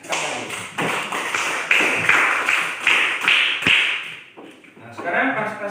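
Classroom of sixth-grade pupils clapping together, a dense burst of hand claps that swells and fades over several seconds, fairly close and loud, with a few voices mixed in.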